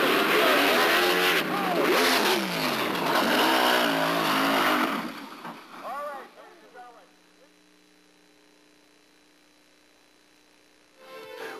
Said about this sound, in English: Hinderberger was shaking the tire so violently that it's questionable that he may have even been conscious at the time of the incredible impact against Novotny's machine